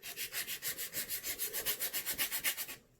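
Rapid back-and-forth scrubbing of doubled-up sandpaper, about twenty even rasping strokes in quick rhythm, close and loud, stopping abruptly at the end.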